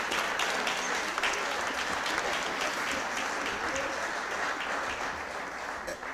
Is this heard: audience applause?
yes